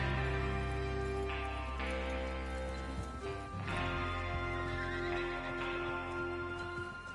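Horses whinny in the video game Red Dead Redemption 2 amid a steady bed of music and ambient noise, with faint hoofbeats; no talking.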